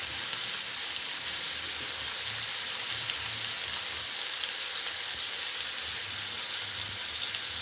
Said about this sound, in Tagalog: Gisa-gisa lang sa bawang sibuyas.